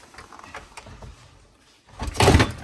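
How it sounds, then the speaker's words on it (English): An InSinkErator garbage disposal drops free from its sink mount after its mounting lug is turned with a wrench: faint clicks and scraping, a brief pause, then a sudden loud, close clunk and rattle near the end. "Disposer will fall free,"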